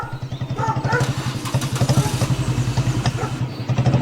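A motorcycle engine runs close by on a road in Kerala, a steady rapid chugging throb that holds for several seconds with faint voices in the background.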